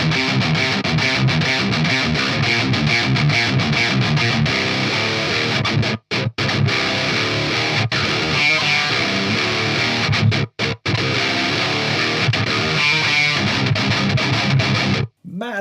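Heavily distorted metal guitar through a Crab Brown Eye 50W boutique amp plays dense chugging riffs, loud and continuous, with a few abrupt choked stops between phrases.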